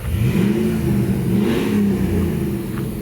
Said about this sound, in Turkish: Bu güzel motor sesi içinde sevenler için.